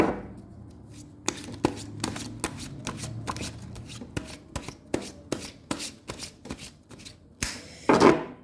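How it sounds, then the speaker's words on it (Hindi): Tarot cards are shuffled by hand in a quiet room, a rapid run of crisp riffling bursts and slaps in an uneven rhythm, ending with a louder final flurry. "Last shuffle."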